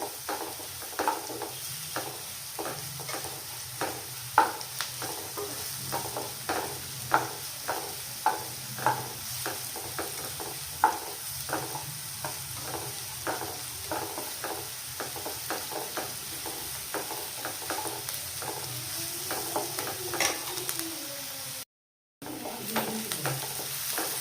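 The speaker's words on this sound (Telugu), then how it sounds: "ముందుగా అవి కట్ చేసుకున్న ఆనియన్స్ వేసుకొని గోల్డెన్ బ్రౌన్ వచ్చే వరకు వేయించుకోవాలి" Cut onions fry in oil in a pan, a constant close sizzle broken by regular scraping strokes of a spatula, steady and moderately loud with no voices.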